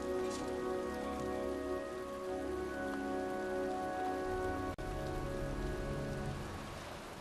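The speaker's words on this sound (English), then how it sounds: "It's cold. It's raining." Steady rain in the video game Heavy Rain falling on a surface, a constant hiss with spattering drops under a low, sustained tonal hum, no voices.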